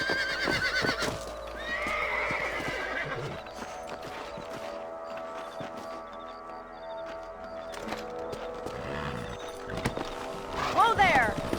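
Horses in Red Dead Redemption whinny and neigh loudly while hooves clip-clop in a steady gait, with game speech and mechanical clatter around them and a sharp final whinny near the end.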